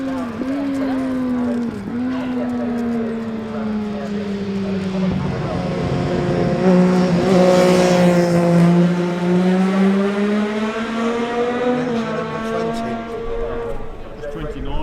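A Triumph Daytona motorcycle races past in the 2018 Manx Grand Prix newcomers race at Ballacraine. Its high engine note swells, bends in pitch and fades as it passes, with a voice talking over it.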